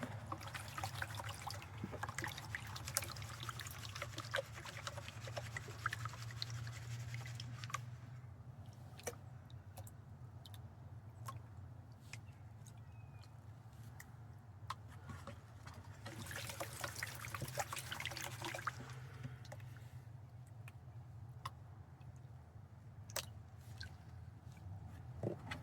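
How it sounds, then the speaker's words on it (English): Water trickles and sloshes in a gold pan as light rocks are washed off the top during home gold panning, a faint continuous dribble with occasional small gravel clicks and no talk. "Just washing all those light rocks off the top."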